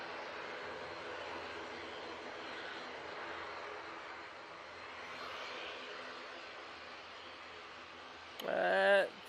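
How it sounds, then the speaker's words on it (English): Aer Lingus Regional airliner departing Manchester Airport for Belfast, a steady distant engine roar held throughout, with a brief louder burst near the end. "Aer Lingus Regional to Belfast will be out next."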